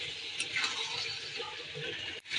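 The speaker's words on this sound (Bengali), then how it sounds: "মশলাটা ভালো করে কষিয়ে নিচ্ছি" Pangas fish frying in spice paste in a pan, a soft steady sizzle with occasional stirring scrapes, fairly quiet and continuous.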